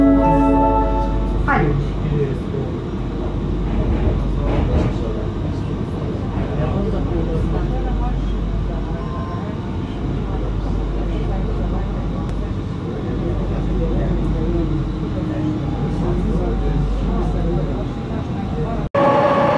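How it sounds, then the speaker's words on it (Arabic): Istanbul M2 metro train riding underground, a steady loud low rumble and rolling rail noise throughout, with a person speaking over it. "راح أركب مترو أم 2 باتجاه هاجي أوسمان"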